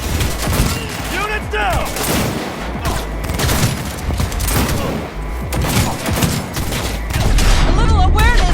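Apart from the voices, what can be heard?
gunfire in the video game Cyberpunk 2077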